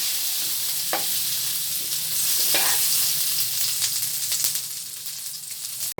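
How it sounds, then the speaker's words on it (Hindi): Butter melts and bubbles in a kadhai for jaggery caramel, making a soft continuous sizzle and hiss with a few scattered scrapes and taps of a spoon, close by and with no speech. "कैरेमल बनाने के लिए कढ़ाई में डालेंगे हम मक्खन। मक्खन को अच्छे से मेल्ट होने देंगे।"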